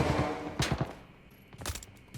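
Automatic gunfire in the shooter game Arena Breakout comes in two short, rattling bursts separated by a quieter pause, with no talk.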